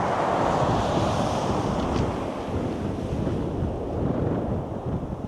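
Sea swell washes ashore at Chesil Cove, a broad, continuous roar of surf with rolling surges and heavy wind rumble against the microphone, no voices.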